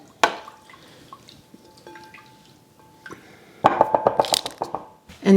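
Dehydrator jerky marinade with dried onion flakes being stirred in a bowl, a sharp clink at the start, then a quiet stretch before a loud run of rapid wet clinks and sloshing near the end, close up.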